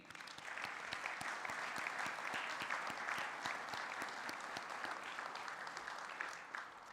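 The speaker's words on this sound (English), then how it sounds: "Please join me in a round of applause for the Ohio State University Army ROTC" Steady audience applause for the Ohio State University Army ROTC at a Veterans Day program, a sustained even wash of many hands clapping at moderate volume with individual claps ticking through.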